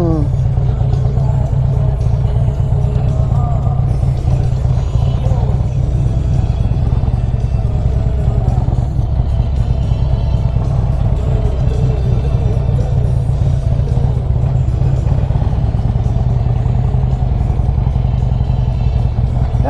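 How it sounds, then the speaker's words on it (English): A car drives slowly around a hospital parking lot, its engine and tyre rumble a steady low drone heard from inside the cabin, with a person talking over it. "As I drive around the parking lot aimlessly"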